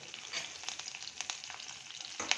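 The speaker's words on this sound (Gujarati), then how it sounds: "લસણવાળું ખાંડેલું મરચું, એને આપણે તેલમાં આવી રીતે તોતરી લેવાનું" Crushed garlic and chilli fry in hot oil for a Gujarati banana curry, a steady close sizzle broken by a few sharp crackles and pops, with no voices.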